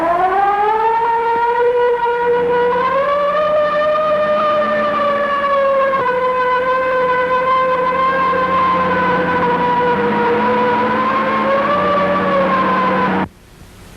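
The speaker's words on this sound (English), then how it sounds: "I can hear the cops coming now." Police car sirens in a 1930s setting wail loud and steady, rising and falling slowly with a low engine rumble beneath, holding close for about thirteen seconds before cutting off abruptly.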